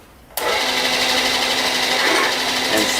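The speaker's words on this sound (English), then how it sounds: "put the countersink in here for our screws that they want to go through here" Power drill cutting a countersink for screws through stout material, a steady high whining drone starting abruptly and running loud and continuous to the end.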